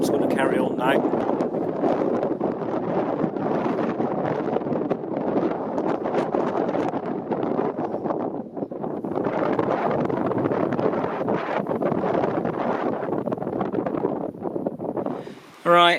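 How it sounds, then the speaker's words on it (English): Strong wind gusts across an open moor, a dense continuous roar buffeting the microphone for the whole stretch, dipping briefly midway and near the end. "it is quite windy up here, if you can hear what I'm saying."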